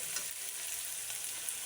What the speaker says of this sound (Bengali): তো আমি মশলাটাকে ভালো করে কষিয়ে নেব।